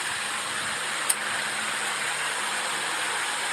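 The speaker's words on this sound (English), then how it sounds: "Sweet exhaust, man." A car exhaust rumbles steadily at idle, a constant hissing drone with one brief sharp click partway through.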